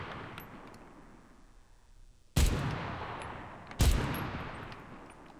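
Heavy guns firing on a shooting range in the Enlisted video game: two loud, sharp blasts a second and a half apart, each trailing off in a long rumbling echo after a quiet stretch.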